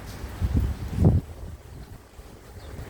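Gusty wind after rain during the Ajman flood buffets close by in two heavy rumbling bursts, then settles into a quieter steady rush.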